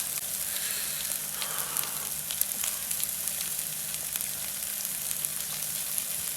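Squid and onion frying on a hot iron griddle at a roadside snack stall: a steady, soft hiss and crackle with scattered small pops throughout.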